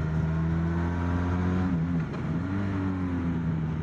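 A Honda VFR 1200 Crosstourer V4 motorcycle engine droning steadily while riding, its pitch dipping briefly mid-way and then rising again, heard close with wind noise around it.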